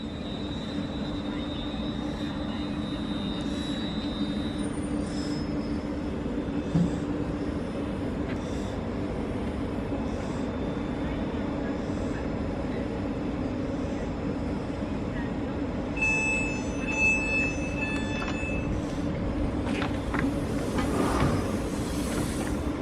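A passenger train to Cork runs steadily with a low rumbling drone and faint clicks, heard from inside the carriage near Kettering and Wellingborough, with brief chimes and beeps near the end.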